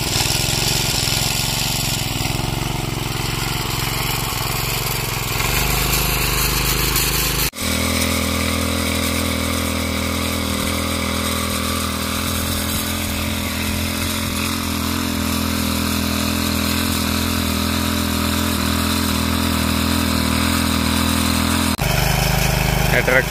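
A tractor engine runs steadily while sowing rice in a Konkan field, a loud, close diesel drone with a brief drop in pitch partway through, and voices talk over it.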